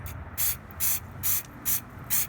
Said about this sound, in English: Let me kind of show you the atomization of the nozzle here.